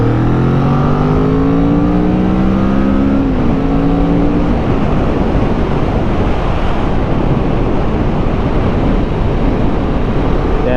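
Kawasaki Vulcan 650 motorcycle engine droning loudly while riding, a rising engine note shifting through gears early on, then buried under heavy roaring wind rush, with no voices.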